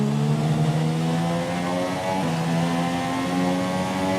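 A Formula 1 race car engine in the F1 2017 video game at the Canadian Grand Prix, running on a rich engine mix and holding a loud, steady high-pitched whine with smooth gear-shift dips, continuous and close.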